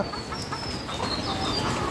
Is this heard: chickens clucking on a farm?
yes